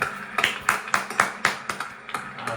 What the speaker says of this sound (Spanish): Hasta gusto da que les aplaudan